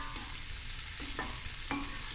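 Lamb knuckle and food browning in a pot for a potato and lamb bredie, a close steady sizzle and frying hiss with a couple of stirring scrapes, no voices.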